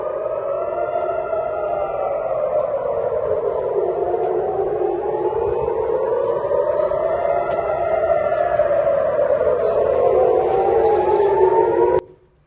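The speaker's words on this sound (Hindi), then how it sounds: "यरूशलेम में लगातार बज रहा है युद्ध का सायरन" Air raid war siren blaring continuously in Jerusalem during an Iranian missile attack, its loud wailing tone rising and falling in slow sweeps with no talk, then cutting off abruptly at the end.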